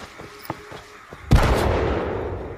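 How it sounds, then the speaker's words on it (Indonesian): A few faint snaps, then one loud nearby blast that rings out into a long, fading rumble. "Mendengar suara tembakan lagi, mereka pun langsung kaget karena suara tersebut terdengar begitu dekat."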